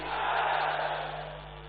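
A large outdoor crowd at a university foundation-stone ceremony in Azamgarh answers a political slogan with one drawn-out, massed shout that swells and then slowly fades.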